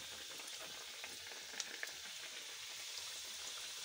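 Chicken samosas frying in hot oil give a faint, even hiss of bubbling with a couple of small pops and crackles, and no one speaks.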